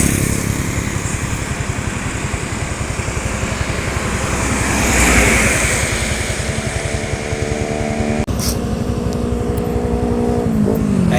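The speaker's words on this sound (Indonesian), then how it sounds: "Nah, ini ada kedatangan bus" A bus on a straight road in Indonesia rumbles closer, its engine swelling to a loud peak and then easing away, with steady road noise throughout.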